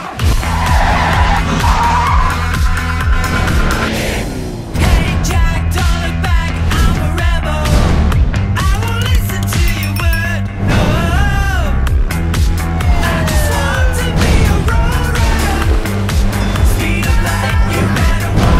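Tyres skid and squeal on cars in the LEGO City Undercover video game, loud bursts of screeching over a constant engine roar and music-like game audio, running continuously with a brief dip midway.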